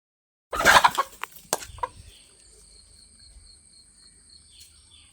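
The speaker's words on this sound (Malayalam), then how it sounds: "എനിക്ക് പുറത്തിറങ്ങി കോഴീനെ തുറന്നു വിടണം" Chickens let out of their coop in a home yard: a burst of clattering and clucking up close for about a second and a half, then quiet with steady insect and cricket chirring in the background.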